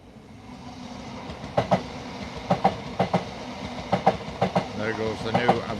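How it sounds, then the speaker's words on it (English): A new Avanti passenger train passes close by, its wheels clicking over rail joints in a quick, regular clickety-clack that grows louder over a steady rumble, with a voice talking underneath. "There goes the new Avanti"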